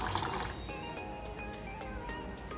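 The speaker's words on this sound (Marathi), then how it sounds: "आता आपल्याला ह्याच्यामध्ये कोमट पाणी टाकायचं आहे." Lukewarm water poured into a pan of spiced paste, a soft splash that settles into a quiet, steady trickle, close but faint.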